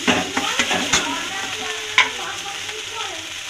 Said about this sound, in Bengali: নেড়ে চেড়ে যতক্ষণ জলটা থাকবে নেড়ে চেড়ে ভাজতেই থাকবো